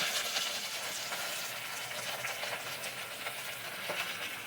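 Eggplant pieces frying in a hot pan of mustard seed, cumin, ginger and curry leaf tempering give a steady, dense sizzle that holds even throughout, close and alone with no talking.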